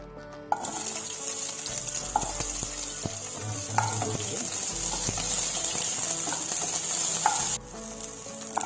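Vegetables fry in oil in a pan for kadai paneer, a steady sizzle running underneath with scattered clinks and stirring scrapes, moderately close, no speech.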